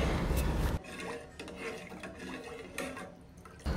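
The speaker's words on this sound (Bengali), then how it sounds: "আর অবশ্যই বারবার নেড়ে দিতে হবে যাতে করে কোথাও লেগে না যায়।" Hot and sour chicken soup being stirred in a pot, a close run of soft scrapes and liquid swishes with scattered clinks against the pot, steady and fairly quiet, with no speech.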